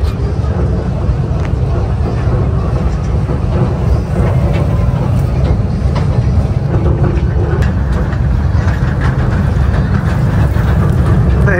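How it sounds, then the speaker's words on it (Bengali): An amusement ride train runs with a continuous low rumble and rattle, loud and steady throughout, while riders talk over it. "ট্রেনে একটা সাউন্ড হচ্ছে তো ভালোই।"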